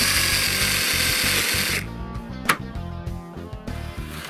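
A power drill bores holes in small metal circles cut for a homemade wifi antenna, whining loudly and continuously before dropping to lower, intermittent grinding with a sharp knock midway.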